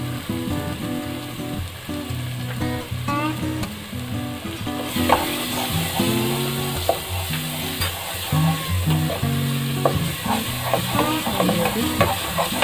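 Onion and chili masala for dhaba-style paneer masala sizzles and fries steadily in a pan while a spoon stirs and scrapes, with clear clinks and no talk.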